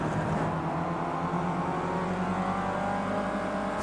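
Mercedes A45 AMG race car engine droning loudly and steadily from inside the cabin while accelerating through the gears at Monza, with no speech.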